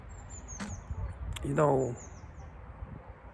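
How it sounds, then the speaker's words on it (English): A faint, thin, high-pitched bird call whistles in the background, with a brief low murmur partway through. "the bird is talking, it's making sound."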